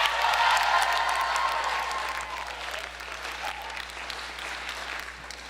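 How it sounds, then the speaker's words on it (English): A chapel crowd applauds steadily, a dense wash of clapping that starts strong and slowly eases off over several seconds. "could you all please stand up for a round of applause?"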